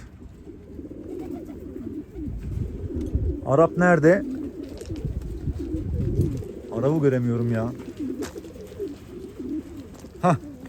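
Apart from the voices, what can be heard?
pigeons cooing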